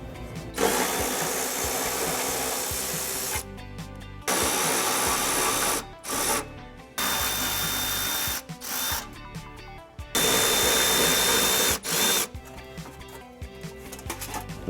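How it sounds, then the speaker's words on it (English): Cordless power tool driving a 10mm socket to remove the four heat shield bolts under a 2013-2017 Honda Accord, in repeated loud whirring bursts separated by short pauses, close to the listener with no talking. "Next, we're going to be removing our heat shield by removing 4 bolts. And I'm going to be using a 10mm socket."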